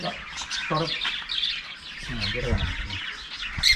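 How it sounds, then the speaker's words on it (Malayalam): Aseel fighting roosters on a farm give repeated squawks and clucking calls over steady barnyard background, with several birds close by and no talking. "അസീൽ കോഴികൾ എന്ന് പറഞ്ഞാൽ പോരുകോഴി കേട്ടോ"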